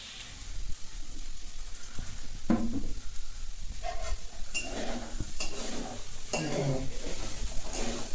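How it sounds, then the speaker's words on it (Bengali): Potatoes fry in a pan with a steady sizzle as they are stirred, and metal scrapes and clanks of the utensil against the pan come close up. "বন্ধুরা দেখে নাও আলু ভাজার স্যান্ডটা"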